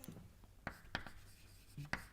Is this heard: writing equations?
yes